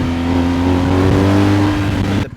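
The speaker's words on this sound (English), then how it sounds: "So the reason why it sounds this good is not only because of the R1250 exhaust" A BMW R1250GS motorcycle with an R1250 exhaust and BT Moto tune holds a loud, steady, close engine note through its exhaust, then cuts off sharply near the end.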